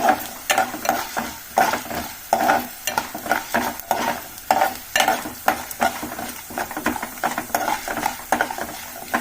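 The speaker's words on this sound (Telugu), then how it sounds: "ఒక 2 స్పూన్ ధనియాలండి, ఇది కొంచెం దూరగా ఎంచుకోవాలండి" Coriander seeds dry-roast in a pan and are stirred steadily, giving repeated scraping and rattling strokes with a light sizzle, close up and with no talking.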